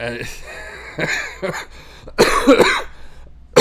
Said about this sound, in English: You don't need to hear me coughing and yakking right now and hacking